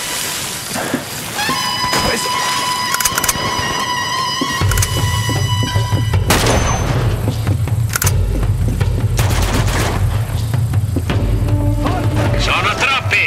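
Automatic gunfire in the PS5 version of Uncharted 2, scattered sharp shots and bursts mixed with a low rumbling game background throughout.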